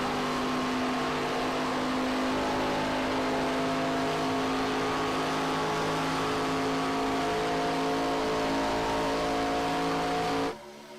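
A NASCAR race car in a racing game at Daytona holds a steady, loud, droning engine note with a sustained whine as it accelerates back to racing speed. The sound cuts off abruptly just before the end.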